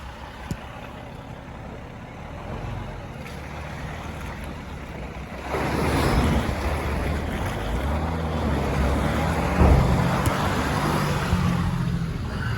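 A vehicle ploughs through a rain-swollen creek crossing on an off-road trail, first a low engine hum, then a loud rushing surge and sloshing of water from about the midpoint that continues to the end.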